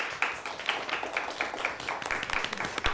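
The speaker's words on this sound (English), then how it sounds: "let's give them a nice round of applause" Applause for a winning quiz team in a studio, a steady wash of many hands clapping, moderately loud and close, continuing without pause.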